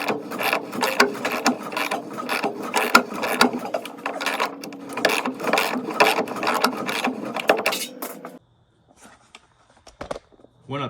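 A ratchet wrench turns a bolt while a body lift is removed from a 1986 Chevrolet K10 truck, clicking in rapid continuous strokes up close for about eight seconds before stopping abruptly.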